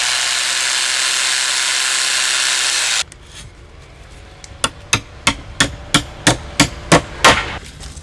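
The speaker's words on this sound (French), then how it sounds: "je vais faire mon trou avant de mettre ma cheville à frapper" A power drill bores a hole for a hammer-in anchor while wood siding is fitted to an old facade. It whirs loudly and steadily for about three seconds, then stops, and about ten sharp, evenly spaced hammer taps follow.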